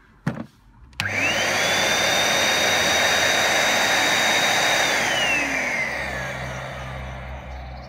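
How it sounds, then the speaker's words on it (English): A Numatic special edition vacuum cleaner switches on after a couple of clicks and runs loud and steady, its motor whine holding high before easing slightly toward the end. "Let's try turning it on."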